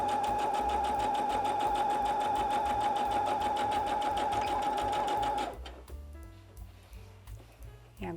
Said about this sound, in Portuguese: Ou eu venho devagar com a minha máquina.